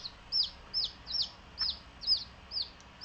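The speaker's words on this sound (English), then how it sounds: "These are Japanese bantam chickens, and they're naturally very, very small." Japanese bantam chickens cluck in a steady series of six or seven short, high calls, evenly spaced and fairly close, over a quiet background.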